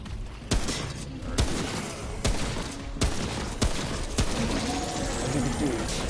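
Sharp gunshots crack at irregular intervals in the third-person shooter Remnant: From the Ashes, loud and close over a continuous bed of game noise, with a person talking underneath.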